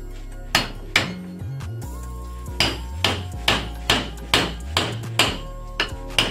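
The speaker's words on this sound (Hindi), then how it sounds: "चलिए थोड़ा ठोक लेते हैं" A hammer strikes the casing of a Texmo submersible pump, braced with a pipe, to open it: about a dozen loud, close metallic blows with ringing tones, spaced roughly half a second apart.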